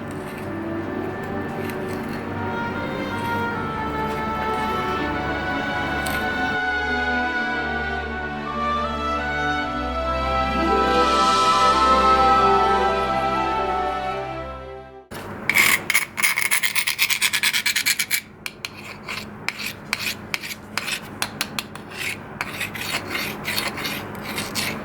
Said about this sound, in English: a great way to dull a knife is to rub it against a stone or ceramic or something that is harder than the